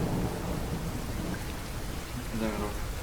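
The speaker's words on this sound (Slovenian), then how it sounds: "Grmenja." Thunderstorm with rain: low rumbling thunder rolls under a dense, steady hiss of rainfall, with a brief brighter crack near the end, no speech.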